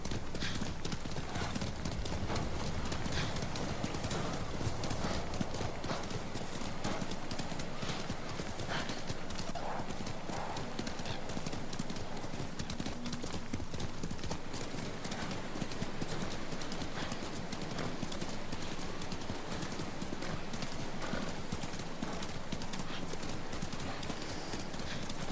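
Horse hooves in the video game Ghost of Tsushima: continuous rhythmic clip-clop of a galloping horse with an occasional whinny, steady and close throughout, with some talk faintly underneath.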